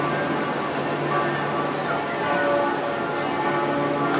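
Church bells ring out loudly at night in Zermatt, their tones overlapping into a continuous clanging peal that sustains without pause.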